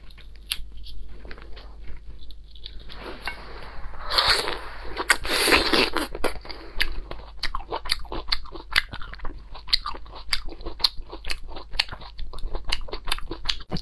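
Someone eats Thai rambutan close to the mic, with a steady run of sharp crunchy bites and wet chewing clicks and a louder burst of crackly peeling partway through.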